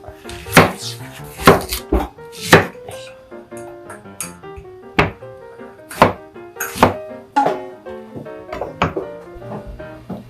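Onions being chopped on a board for ginger pork, a run of sharp, close knife thunks in an uneven rhythm, with a voice talking faintly underneath.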